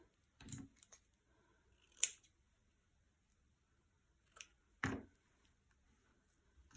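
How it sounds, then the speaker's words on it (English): Scissors trim card paper to size in a few separate crisp snips, close and quiet, with near silence in between. "Trim off any little bits that you don't want to be seen."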